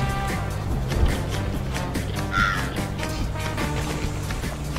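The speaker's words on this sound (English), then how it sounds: "The birds help." Crows caw in Zombie Vikings, a few short calls rising over steady game music with low rhythmic beats underneath.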